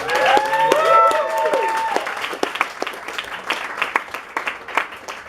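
A live audience greets a guest named Mark with applause and scattered cheers, a dense wash of clapping that starts loud and thins into separate claps, while a host's voice shouts over the opening seconds.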